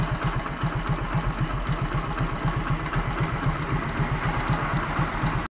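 A Hero HF Deluxe motorcycle engine runs steadily at slightly raised revs after an air-screw adjustment. It makes a close, even, rapid thumping exhaust pulse with a mechanical rattle throughout, and no voices.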